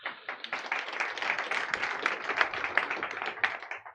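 Applause from a conference audience at a global health and vaccine alliance launch event, a dense steady patter of many hands clapping close and fairly loud, swelling slightly and then fading toward the end.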